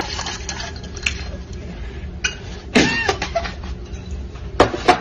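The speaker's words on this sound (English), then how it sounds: "Yeah, I'm gonna get 1/4 of tequila." Tequila poured from a bottle into a small measure in a home kitchen while cooking tacos and mixing strawberry margaritas, a brief liquid trickle set against faint kitchen clatter and a low background hum.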